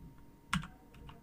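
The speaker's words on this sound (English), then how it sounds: "I'm going to type in the IP NHRP network ID." Typing network configuration commands on a computer keyboard, a few soft, close key presses with one firmer tap, brief and quiet in an otherwise still room.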